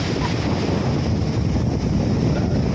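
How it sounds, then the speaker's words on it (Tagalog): Strong typhoon wind roars continuously into the microphone, a loud rumbling gust with surf-like wash, no voices. "Lakas pa ng hangin."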